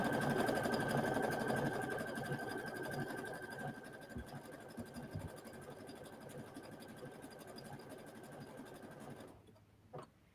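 A Brother Aveneer sewing machine stitches garment fabric guided by an edge knife on the presser foot, giving a steady, rapid mechanical hum and clatter at moderate volume that slows and stops near the end.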